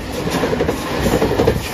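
A JR Shikoku 8000 series limited express electric train passes Iyo-Doi station, with a loud, close, continuous rumble of wheels and carriages rushing by.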